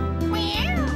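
A single drawn-out cartoon cat meow from the animated children's show Postman Pat, rising and falling in pitch, heard over a steady musical background.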